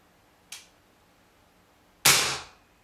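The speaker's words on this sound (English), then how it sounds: "we're going to test fire it now" HFC HGC-306 CO2 pistol test fired outdoors, a faint click or pop followed by one loud, sharp gas-powered crack with a brief hissing decay.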